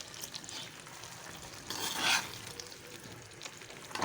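Fried okra and green chillies are stirred in a pan: a soft, steady sizzle with a short swell of scraping and frying noise in the middle.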